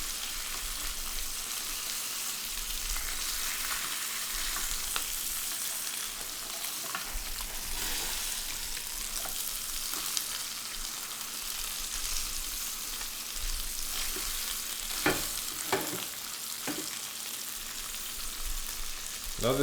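Steak sizzling on a hot griddle, a steady loud frying hiss with occasional pops and crackles, close and continuous with no talking.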